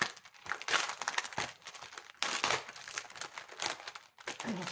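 Plastic wrapping being crinkled and torn open on a package of sticker labels, close, irregular bursts of crackling and rustling with brief pauses between handlings.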